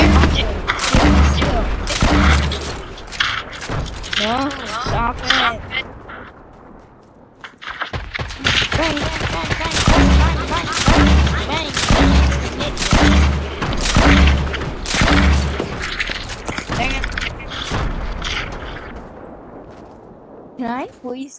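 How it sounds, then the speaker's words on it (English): Automatic gunfire from the Midas gun in Fortnite Creative's City of Rome gun game, bursts of rapid shots recurring across the stretch with a brief lull midway, and a player talking over them. "I'm pretty sure the Midas has auto fire."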